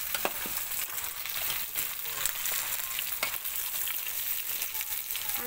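Crab fries in a pan for a traditional Tamil crab gravy, a steady close sizzle and crackle with occasional pops and stirring scrapes throughout.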